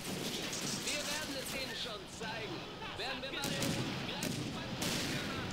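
Tank and artillery gunfire from the Blitzkrieg 2 World War II strategy game, a dense continuous barrage of overlapping shots and blasts filling the whole stretch, with game voices and effects mixed underneath.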